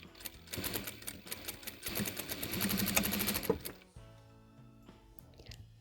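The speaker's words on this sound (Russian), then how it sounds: "И нам нужно прошить, сделать строчку вот в этом месте, буквально 3-4 сантиметра вверх." A sewing machine runs a short seam on baby overalls, a fast, even mechanical clatter for about four seconds up close, then stops, leaving only quiet handling noise.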